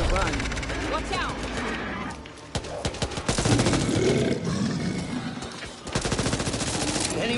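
Rapid automatic gunfire in the Back 4 Blood video game, bursts of loud close shots broken by short pauses, mixed with growls and roars and shouted voices.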